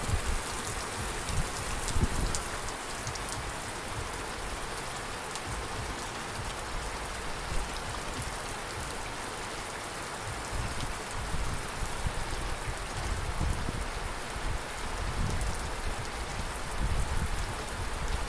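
Steady heavy rain spatters and drums on outdoor bins during a thunderstorm in Calliope, a dense continuous hiss with close patter throughout, no voices.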